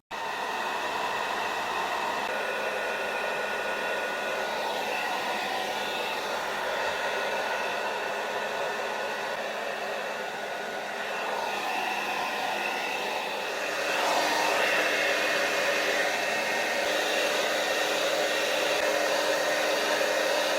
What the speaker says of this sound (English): it can fit onto any hairdryer because this is adjustable